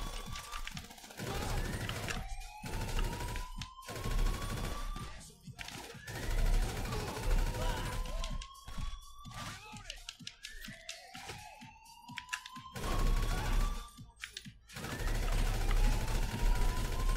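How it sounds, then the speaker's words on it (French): Intermittent gunfire in GTA 5 Online during a heist escape, scattered bursts and single shots at moderate distance, interleaved with whooshing and rising game tones, with a voice talking at times. "Mais c'est qui me tire dessus?"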